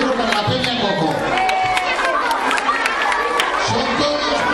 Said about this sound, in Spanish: Pues un aplauso para Peña San Mateo.